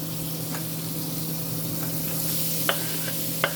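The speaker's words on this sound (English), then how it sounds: "We're going to saute our garlic, our 2 cloves of garlic. We're going to saute our 1 onion" Garlic and onion sautéing in a pan, a steady bright sizzle up close with a couple of sharp stirring clicks near the end.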